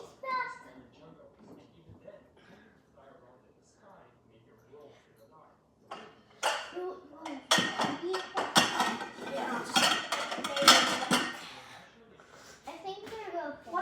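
Ceramic plates and dishes clatter and clink in a busy flurry as a dishwasher is loaded at home, the clanking growing louder midway, with someone talking over the quieter start.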